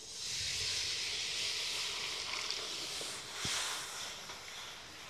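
Water poured into a hot pan of raw banana kofta curry gravy gives a loud, continuous steaming hiss that swells and eases over several seconds, close by with a few faint clinks beneath it.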